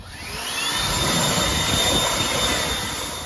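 A PowerSmart 80V brushless cordless single-stage snow blower runs with a loud, steady whine from its paddles that swells and holds close by, with a thin high tone above it.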